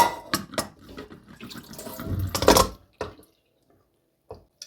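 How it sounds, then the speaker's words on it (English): Water runs and drips off soaked, previously frozen grape leaves as they are lifted and drained in a kitchen for a traditional Turkish dish, a splashy pour for a few seconds that ends abruptly, followed by a couple of faint drips. "removing the water like so"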